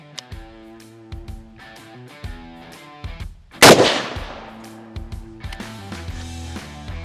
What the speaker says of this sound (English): I'm not shooting any further than 100 yards with a 45-70